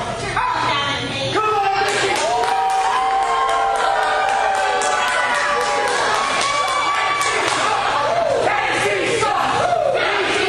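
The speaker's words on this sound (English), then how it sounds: "you can just hear by the chants of this crowd and the support they show towards Mickie James" A wrestling crowd at a women's match chants and cheers loudly throughout, with rising sustained voices, shouts, and a dense roar of support filling the hall.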